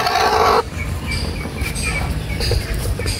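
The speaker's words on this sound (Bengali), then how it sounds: "আমার মুরগি এই যে ডিম পাড়তে লেগে বসে রয়েছে, আর এখানে ডিম পাড়ছে একটা" A hen sitting down to lay eggs gives off clucking calls close by, with a louder burst at the start and then quieter, uneven clucks over a low background rumble.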